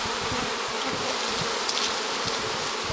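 Honey bees from a colony cutout in Monument Valley swarm around a turkey feather used as a bee brush, giving off a dense, continuous agitated buzzing, loud and close with no talking.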